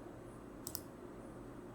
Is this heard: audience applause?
no